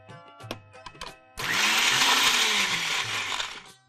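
A mixer grinder churns paneer chutney with water, starting abruptly after a few soft kitchen knocks and running as a loud, steady whirring roar for over two seconds.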